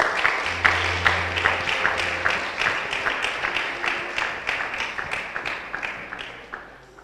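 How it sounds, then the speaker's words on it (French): A church congregation bursting into applause, many hands clapping in a fast, even rhythm that carries on steadily, fairly loud and close with a roomy echo. "Acclamons le Seigneur pour le frère Moussa"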